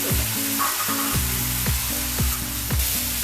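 Ground tomato paste frying in a pan for a vegetarian dish, a steady close sizzle with soft stirring scrapes and a faint tonal hum running beneath, no voices.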